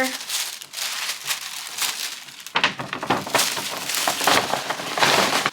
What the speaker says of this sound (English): So I think I'm gonna line the bag first. Put some pink paper.